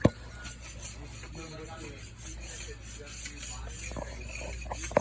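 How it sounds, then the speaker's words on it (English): Scraper and razor blade scraping stuck-on gunk off a store floor, a steady rasping, rubbing scrape running throughout at close range with a sharp knock at the start and end, over low hum and faint background voices. "we're scraping the gunk off"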